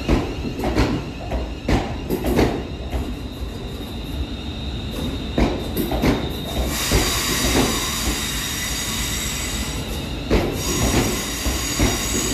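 A West Midlands Railway Class 350 unit, 350370, pulls out of Birmingham New Street on a service to Rugeley Trent Valley, its wheels squealing and clattering over rail joints amid steady, echoing station rumble.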